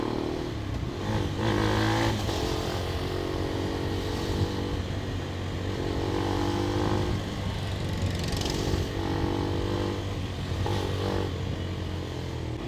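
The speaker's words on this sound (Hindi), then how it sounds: "देखो चौथे गियर पे मैं रेस दे रहा हूँ भाई" A Bajaj Pulsar NS400Z motorcycle revs steadily in fourth gear, its engine drone holding a constant pitch with several rising swells, loud and close throughout with no talking.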